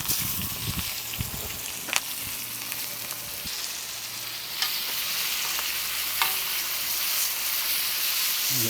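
Onions frying in burnt butter and oil on a coal shovel give a steady, close broadband sizzle, with occasional stirring scrapes and small crackles, no voices.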